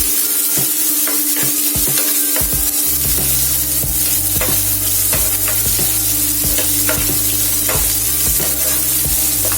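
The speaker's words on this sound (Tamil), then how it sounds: "இது நல்லா கோல்டன் ப்ரௌன் கலர்ல வர வரைக்கும் நல்லா வதக்கி எடுத்துக்கோங்க வெங்காயத்தையும்" Onions sauté in a pan for gongura pachadi until golden brown, with a loud, continuous sizzle and frying hiss and occasional scraping stirs. No voices are heard.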